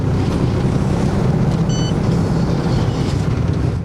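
A city bus on the Vladikavkaz–Beslan route in North Ossetia rumbles steadily along, with a dense continuous low road and engine drone and a brief faint electronic beep partway through, with no speech.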